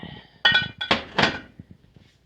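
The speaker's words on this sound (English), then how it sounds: "I've got a crap ton of dishes to do too." Dishes clink and clatter as they are washed in a small farm kitchen in the woods. A few sharp knocks and rattles come in close, uneven bursts, then fade to softer scattered taps, with no talking.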